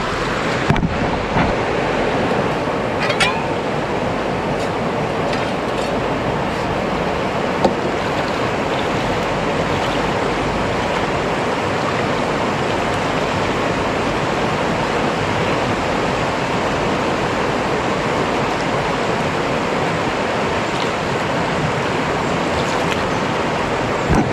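Water rushes steadily at a gold digging site, a dense continuous roar heard close and loud throughout with no talking, only a few faint knocks on top.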